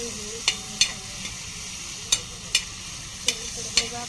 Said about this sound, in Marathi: मी आता थोडंसं घालणार आहे चिकन